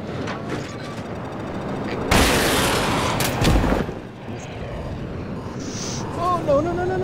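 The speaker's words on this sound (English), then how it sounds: "I hit him with a missile and I hit him with my cannons" A rapid burst of heavy F-35 jet cannon fire roars for a couple of seconds over continuous game engine noise in Battlefield 2042, with a few sharper shots after it.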